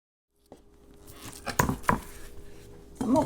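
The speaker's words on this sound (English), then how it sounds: "while I'm slicing the vegetables" A knife slicing vegetables on a cutting board while cooking chicken basil tomato, with a few sharp chops standing out among softer cutting scrapes, close and moderately loud.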